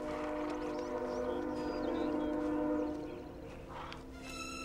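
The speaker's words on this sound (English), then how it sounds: "I feel like I can hear a train" Train heard faintly and indistinctly, with a sustained horn-like drone and rumble lasting throughout under a steady background wash, with no speech.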